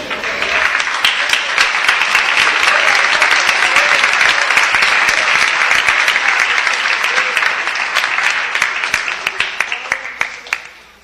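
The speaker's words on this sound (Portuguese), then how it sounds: "Pode assentar e alegrar no Senhor com as palmas bem forte." Loud, sustained applause from a church congregation at a sermon service, dense clapping filling the whole stretch and tapering slightly at the end, with voices mixed faintly into the crowd.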